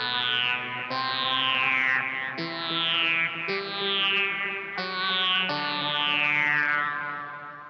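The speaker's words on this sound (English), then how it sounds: "I'm going to use this to generate some signal to run a wah-wah filter over." Guitar run through a Boss SYB-5 bass synth and then a wah-wah filter, a series of six sustained synth notes each with a sweeping filter glide, loud and alone without talk.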